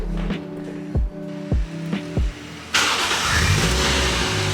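A Toyota JZX90 sedan engine cranks with three short starter bursts and then catches, settling into a loud, steady idle close by.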